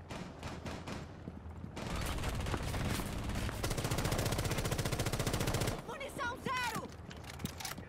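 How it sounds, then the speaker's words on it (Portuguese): Rapid automatic gunfire in the video game Tom Clancy's Rainbow Six Siege rattles in a long sustained burst, preceded by a few separate shots and followed by scattered sharp effects and a voice. "Que tiro foi esse?"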